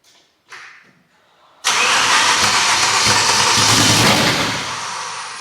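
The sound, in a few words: BMW M3 V10 engine starting with 10-into-1 headers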